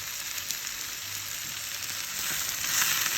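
A stuffed-eggplant filling with parsley sizzles loudly and evenly in a pan as it is stirred, a dense close frying hiss that swells slightly toward the end, with no voices.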